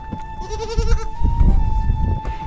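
Small goats, including young kids, bleat in a village pen at Kalabogi, Khulna: a loud, quavering bleat up close, followed by shorter cries and shuffling noise.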